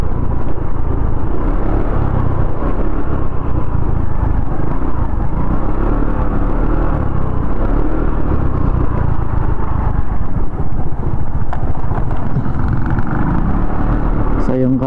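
An RFI 175 motorcycle riding along a narrow road, its engine a loud, continuous rumble with steady wind and road noise throughout.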